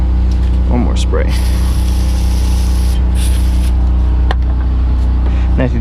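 Brake cleaner hisses out of an aerosol can onto a 2015 Toyota Camry front brake caliper in a loud spray lasting a couple of seconds, followed by a second shorter burst, over steady background engine hum and a voice speaking.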